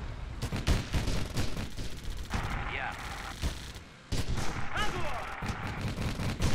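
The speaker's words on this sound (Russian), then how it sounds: "Ну, идут рикошеты одни." Tank shells ricochet off armor in the WWII video game Theatre of War during the battle for Moscow, sharp repeated cracks and metallic pings amid gunfire, with a brief quiet gap midway.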